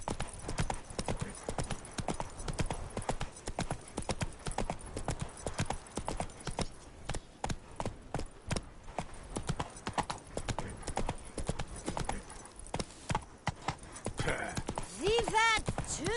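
Horse hooves galloping in The Witcher 3, a steady, fast clip-clop running throughout the whole stretch, with background game sounds and a brief rising tone near the end.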